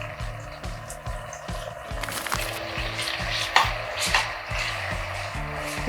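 Chopped tomato and garlic frying in a pan, a steady sizzle with scraping and clinking of a utensil through the pan, fairly close and continuous, no talking.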